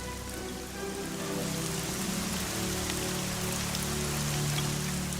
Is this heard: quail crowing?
no